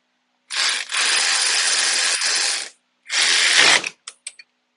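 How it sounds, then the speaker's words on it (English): Ratchet snugging down a 5/16 Allen head bolt on a Polaris PRO grab handle mount: two long bursts of steady, close, loud clicking with a short pause between, ending in a few separate clicks. "You take a 5/16 Allen head. Snug it down."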